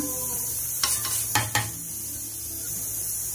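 Egg fried rice with pepper, garam masala, salt and chili powder is stirred in a pan over high flame, with a steady sizzle and three sharp spatula scrapes against the metal.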